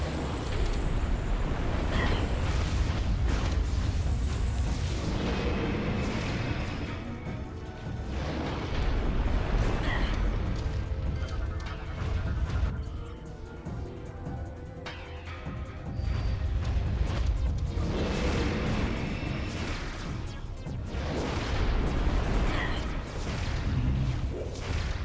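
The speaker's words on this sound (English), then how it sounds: "explosion near his feet apparently does not count as missile" Explosions and swooshing weapon blasts from a Metroid Prime 3: Corruption battle, with an enemy hit near the feet, rumble loudly through a dense, continuous game mix, with bursts and quieter pauses in between.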